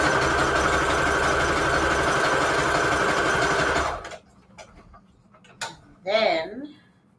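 A sewing machine stitching a Christmas book-page junk journal pocket runs in a steady, close, rapid whir for about four seconds, then stops, followed by faint handling clicks and brief talk.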